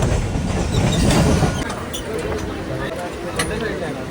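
A Mumbai local train rumbles at a station platform, its steady running noise and occasional clacks heard close up beneath people talking.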